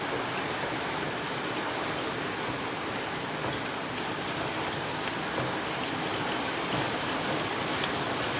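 Heavy rain pours in Singapore as a dense, steady hiss of drops on surfaces, close and unbroken, with no voices over it.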